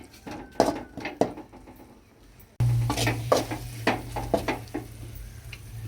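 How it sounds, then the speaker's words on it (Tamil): Garam masala and spices sautéing in hot oil for a meal maker gravy, a sizzling hiss punctuated by several sharp spoon-against-pan scrapes and clanks, the frying growing louder and denser partway through, no voices. "மசாலாலாம் சேர்த்து கொஞ்சம் நேரம் எண்ணெயில் வதங்கட்டும்"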